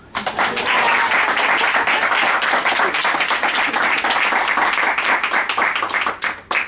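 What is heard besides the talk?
audience applause closing a theatre story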